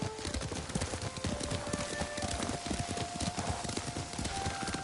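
Horse hooves clopping steadily at a riding pace in the samurai video game Ghost of Tsushima, a close, rhythmic clatter over outdoor ambience with occasional faint tones.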